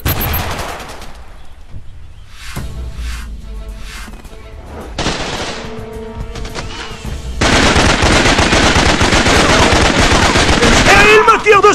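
Heavy automatic gunfire and explosive bursts in the jungle shooter game Raven Squad, with scattered shots early on building into a loud, sustained barrage that fills the closing seconds.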